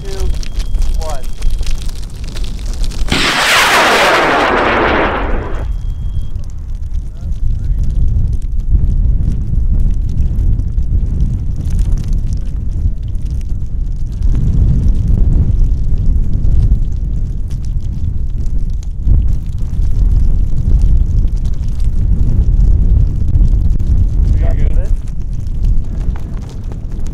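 A high power rocket lifts off at an Idaho launch site for a flight to nearly 13,000 feet: a sudden loud, crackling roar bursts out for about two seconds, then fades into a long low rumble mixed with wind.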